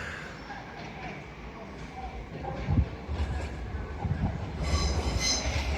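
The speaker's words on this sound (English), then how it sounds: "This is hauled by one of their 800 bi-mode trains." A Class 800 bi-mode passenger train rumbles past at Doncaster on the East Coast Main Line, with rising rail noise and brief wheel squeals, growing louder toward the end; no clear speech.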